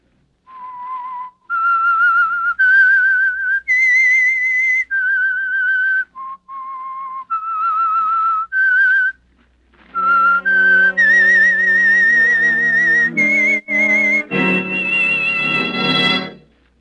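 A lone whistler carries a slow, clear melody of held notes with short pauses, then a brighter, fuller whistled phrase swells near the end; the theme of the old-time radio mystery program The Whistler.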